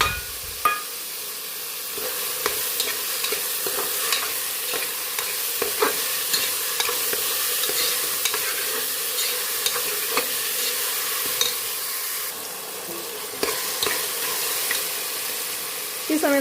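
Curry leaves crackle and sizzle in hot oil for a beef curry, a bright, steady frying hiss close by, dotted with small pops and occasional scraping stirs.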